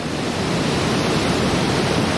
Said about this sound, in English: this is a fairly substantial river coming down through this volcanic rock